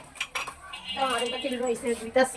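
Pots and pans clatter and clink in a Bangladeshi home kitchen, with a few sharp metallic knocks and brief voice-like sounds in the middle.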